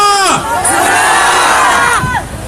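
A crowd at a press conference jeers loudly, with many voices shouting together in a dense, rising and falling roar close by.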